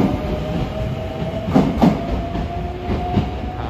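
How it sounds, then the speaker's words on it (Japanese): The limited express Shinano train rolls steadily out of Nagoya station, its wheels clicking over rail joints with a low humming motor, loud and close, with no talking. "特急シナノ長野行きになります。"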